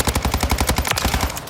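Rapid automatic gunfire from the BAS-B or Cronen Squall rifle in Modern Warfare 3, a fast, evenly spaced burst of close, loud shots that runs through the whole moment without pause.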